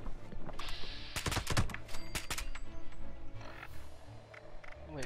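Rapid clusters of sharp pistol shots in Fallout 76, crackling in quick irregular bursts over a steady bed of game ambience and music.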